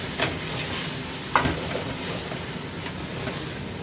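Spice masala for mash (urad) dal fries with a constant loud sizzle and hiss, with occasional stirring clinks against the pan, close up and without talk.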